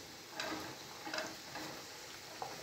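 Snake gourd sautéing in a pan for kootu, with a quiet steady sizzle and a few soft scraping stirs at intervals, no talk.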